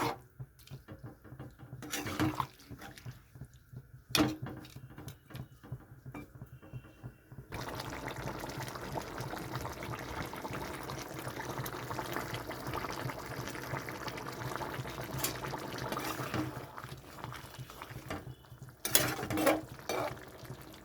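Vegetarian cauliflower curry simmering after hot water is poured into the pot: a few clatters and gaps at first, then a steady, fairly quiet bubbling and watery rush that runs on to the end.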